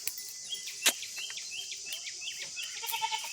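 Grazing goats let out a few brief bleats, one sharp call standing out, against a constant buzz of crickets and insects outdoors.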